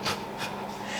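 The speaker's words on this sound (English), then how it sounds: "if you can hear a weird noise in the background, that is my dogs" Noisy, raspy breathing from pugs, a couple of snorting, wheezy breaths close by over a low background hiss.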